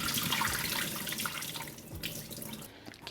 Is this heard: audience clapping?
no